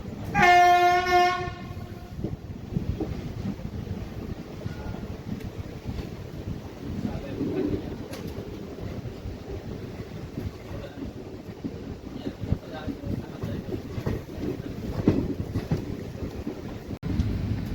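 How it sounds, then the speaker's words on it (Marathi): The Pandharpur–Nizamabad Express departing Kurduwadi station sounds a loud, sustained horn at the start, followed by the steady rumble and clatter of the moving train, with wind noise and faint voices in the background. "कुरुदवाडीवरून तर आपली ट्रेन निघालेली आहे"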